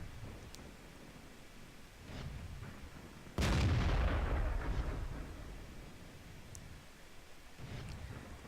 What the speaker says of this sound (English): Go for another shot and hit the Churchill.